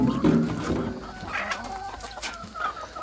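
Egg-laying hens cluck and murmur close by inside a coop, several birds overlapping in a steady, busy chatter with occasional louder calls.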